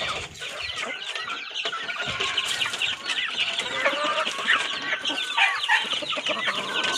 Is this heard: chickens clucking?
yes